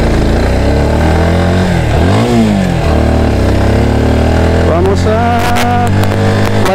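An Italika 200Z motorcycle revs loudly up through its engine range and then winds down as it brakes to a stop, its mid-pitched engine close and dominant throughout.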